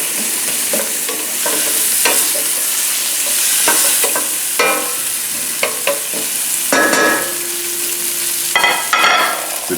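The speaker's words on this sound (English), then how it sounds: "And quickly saute this for a second" Onions and halved garlic sizzle in a hot pan, a steady frying hiss broken by scraping stirs and occasional utensil clinks, close and continuous with no talk.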